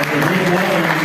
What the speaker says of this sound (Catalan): En anticipació ja podeu aplaudir-los també